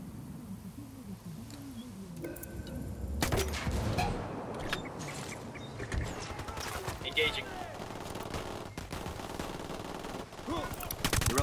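Rapid bursts of submachine gun fire from an enemy turret in Ghost Recon Wildlands, sharp repeated cracks scattered across a busy in-game battle ambience.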